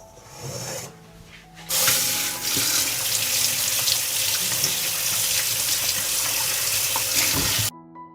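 Tap water runs steadily into a sink over fresh peppers being washed, a loud continuous spray with brief breaks near the start and an abrupt stop at the end; no talking.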